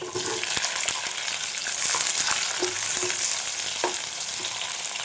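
Ginger and onion fry in a pan for a soya chunks dish, a steady close sizzle with a few spoon scrapes and stirring knocks, no talking.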